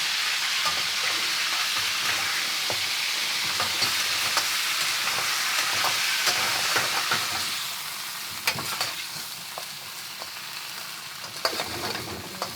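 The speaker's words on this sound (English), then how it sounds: "So I've just chucked in all the green parts of the shallots, the garlic and the ginger. Just frying that up in a bit of peanut oil" Green shallot tops, garlic and ginger frying in peanut oil on a boat, a dense crackling sizzle with occasional stirring scrapes that eases to a quieter fry partway through.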